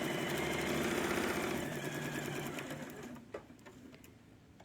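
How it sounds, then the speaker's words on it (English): A sewing machine runs steadily, stitching fabric for a Christmas table topper, with a fast, even mechanical chatter that slows and thins toward the end, leaving a few faint clicks. "And now I'm going to continue stitching."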